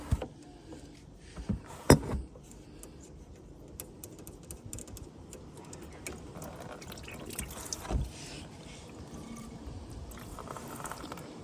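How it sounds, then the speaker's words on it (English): Water draining from a KillaBoost catch can under a car, faint trickling and dripping with a few sharp clinks of a shifter or metal fittings, quiet and close. "Now that's how easy it is to drain a catch can from KillaBoost."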